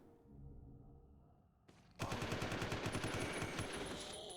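Rapid automatic gunfire in a Resident Evil video game bursts in suddenly after a quieter musical stretch, a loud continuous volley that rattles on without pause.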